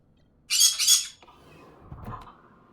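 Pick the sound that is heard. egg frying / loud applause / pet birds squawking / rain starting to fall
pet birds squawking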